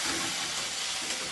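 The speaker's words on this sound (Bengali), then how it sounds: "তেল চিটকাচ্ছে, দূর থেকে মশলা করছে" Hot oil spatters in a pan while food fries, a steady close hiss with fine crackling texture running without pause and no voices.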